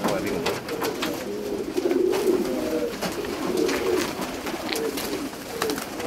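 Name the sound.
show pigeons cooing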